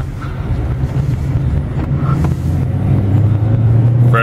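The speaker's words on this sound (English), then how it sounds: "Go for a quick test drive." A 2005 Honda Civic LX out on a test drive gives a steady low engine and road rumble with wind buffeting the microphone, building slightly toward the end, heard from inside with no one talking.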